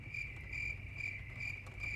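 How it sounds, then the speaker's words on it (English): Crickets chirping in steady, evenly pulsed trills, high and fairly faint against a quiet low background, ending in a brief louder sound at the very end. "Just the crickets."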